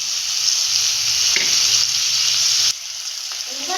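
Masala for Thanjavur dried fish curry sautéing in a pan, a close, steady hissing sizzle that briefly dips midway and then continues with faint stirring scrapes.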